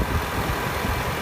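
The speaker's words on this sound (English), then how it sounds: "Very powerful engine." A Range Rover Supercharged sits idling, its engine giving a steady, close, even rumble with a broad exhaust hum and no talk over it.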